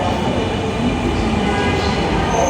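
Metro rail train running on the way to Motijheel, a steady loud rumble and roar of wheels and motors filling the carriage, continuous throughout with no break.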